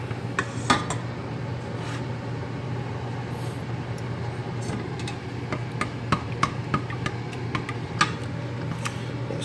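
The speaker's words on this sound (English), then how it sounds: "you want to generally keep stirring and mixing until you notice it start to thicken" A spoon scrapes and clinks against a pot while a thickening mixture is stirred, with irregular metallic ticks and taps over a low steady hum, close and fairly loud, no talking.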